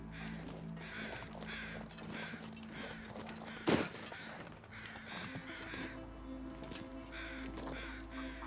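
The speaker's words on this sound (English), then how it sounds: "Oh, I hear the ptarmigan. They're right there in front of me." Ptarmigan calling in the video game The Long Dark, a series of rough, croaking bird calls repeating in bursts over a low ambient wind bed, with one sharp loud crack partway through.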